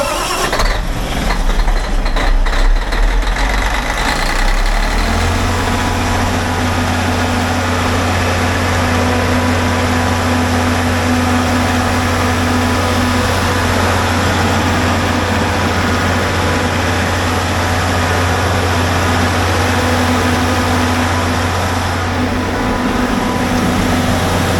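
A storage building's generator in Manhattan cranks and catches, then settles into a loud, steady running drone with a low hum that holds for the rest of the stretch.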